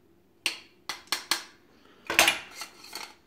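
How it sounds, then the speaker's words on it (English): Metal sifter tapped and shaken over a bowl of dry ingredients with baking powder for a spice cake, a handful of sharp clanking knocks followed by a rattling flurry, close and clear with no talk. "I'm going to sift it."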